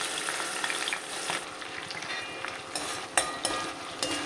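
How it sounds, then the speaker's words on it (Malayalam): Ginger, garlic and curry leaves fry in hot oil in a pan, a steady close sizzle with sharper crackles and occasional stirring scrapes, heard alone. "ഇഞ്ചി വെളുത്തുള്ളി കറിവേപ്പില നല്ലോണം മൂപ്പിച്ചെടുക്കാം"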